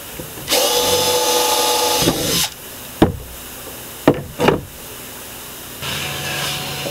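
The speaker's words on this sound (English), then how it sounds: "take your 3/16 drill bit and drill out the hole" A power drill with a 3/16-inch bit whirs steadily for a couple of seconds drilling a hole in a kayak, then stops; a few sharp knocks and short bursts follow before a quieter motor hum returns.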